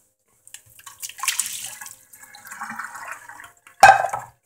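Water poured out over Skittles candies, a short, close splashing trickle that swells and fades, ending in a brief sharper splash.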